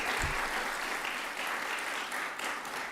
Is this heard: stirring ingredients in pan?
no